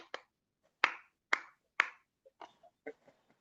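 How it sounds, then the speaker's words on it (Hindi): A single person demonstrates temple-style clapping, several sharp separate hand claps close by, the first few loud and evenly spaced, then softer, quicker claps trailing off. "हम मंदिर में जाओ हम तो तालियां बजती हैं ऐसे"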